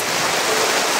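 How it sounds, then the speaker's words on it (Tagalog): Rain falls steadily in a dense, loud, close hiss that fills the whole moment without a break and with no voices. "At yung ulan tol ay nakakatulong din dahil"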